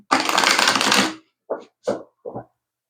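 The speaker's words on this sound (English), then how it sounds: "So I'm going to grab 3 cards. I'm just going to give these a quick shuffle" A second of brisk tarot card shuffling, followed by three short separate riffles or taps of cards, close and clear.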